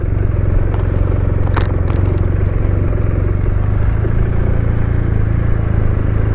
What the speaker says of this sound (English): You cannot fault a boxer engine in any shape, way or form.